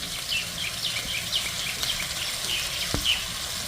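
Potato and pointed gourd curry with chilli, turmeric and coriander powders frying in a pan, a steady close sizzle running throughout with a single sharp scrape or clink near the end as it is stirred.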